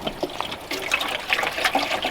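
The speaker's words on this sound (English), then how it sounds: "Dunking a bunch of water into the thing." Water splashes and gurgles as it is poured into a container, an irregular liquid trickle and slosh up close with no talking.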